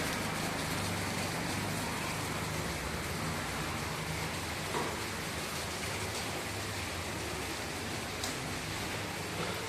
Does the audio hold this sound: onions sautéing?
no